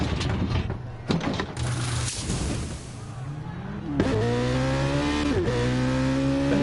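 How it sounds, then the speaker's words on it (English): A race car engine roars through qualifying at Fuji, revving up and down with rising gear-change pitches; loud, close and continuous, a steady howl building after a brief dip. "Fantastic engine noise as well"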